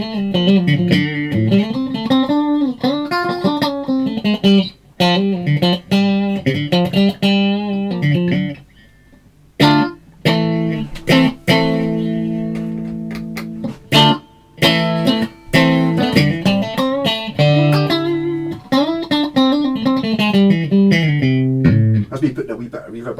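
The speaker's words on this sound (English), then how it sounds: "That's me putting a wee bit of reverb on." An electric guitar, an HSS Stratocaster, plays chords and melodic runs with a lingering reverb tail, notes ringing out between short pauses.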